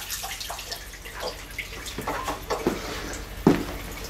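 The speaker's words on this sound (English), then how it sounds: "Now I'm going to pour a little water out of this" Water poured out of a gold prospecting tray, splashing and dripping in uneven bursts, with a sharper slosh near the end, close and moderately loud.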